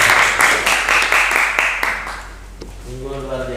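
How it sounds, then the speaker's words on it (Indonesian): Clapping from a small classroom audience during a teacher performance assessment session, distinct claps for about two seconds that thin out and fade, followed by a voice beginning to talk. "silakan tepuk tangan dulu"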